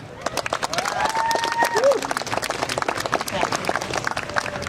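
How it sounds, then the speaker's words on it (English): A crowd applauds steadily with dense clapping, mixed with scattered cheers and voices in the background. "A round of applause for Ana Maria."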